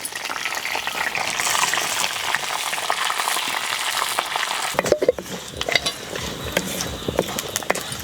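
Tempering spices, dried red chilies and curry leaves sizzle in hot oil for a coconut karam podi, a steady close frying hiss with crackles that sharpens after a fresh addition midway, no voices.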